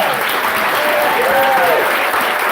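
Steady applause from an audience honoring awardees at an annual celebration, a dense wash of many hands clapping at close range, with a faint whistle or cheer rising partway through.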